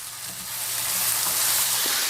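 Cube steak fries in a pan with a little added oil, giving a loud, continuous sizzle that swells slightly and carries a faint hiss, with no talking.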